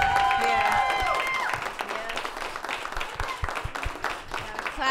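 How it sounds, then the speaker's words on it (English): Applause and cheering from a live crowd after a music performance at an open music session, loud and busy at first, then thinning into scattered claps with a few voices mixed in. "Clap it up again"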